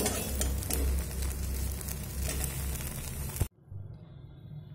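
Soybean chunks frying in oil over a medium flame, a steady dense sizzle close by that cuts off abruptly near the end, leaving near silence.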